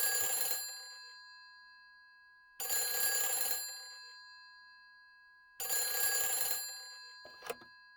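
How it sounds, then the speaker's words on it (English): An old-style telephone bell rings in Silent Hill 3, with three loud metallic bursts spaced about every three seconds, each decaying into silence, and a brief click near the end. "Hey, phone."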